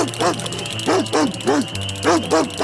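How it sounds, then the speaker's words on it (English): A dog barks about five times in quick, uneven bursts, loud and close, over a low steady hum. "a big hungry dog came chasing the 2 ducks"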